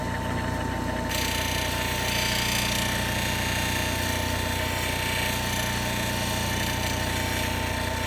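A gemstone cabochon is polished at 600 grit on a lapidary machine, producing a loud, continuous motorized grinding drone with a steady buzzing vibration throughout.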